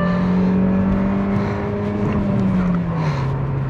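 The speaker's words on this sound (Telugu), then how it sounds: "ఆల్మోస్ట్ 6000 RPMకి మనకి రెవ్ అవుతుంది ఇది" A Hyundai Verna engine revs hard toward 6000 RPM. Its loud, close tone climbs and holds, then eases slightly toward the end.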